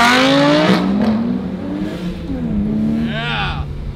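A Lamborghini with a manual gearbox accelerates hard nearby, its engine revving up, dropping at a gear shift and climbing again, with voices audible over the loud engine note.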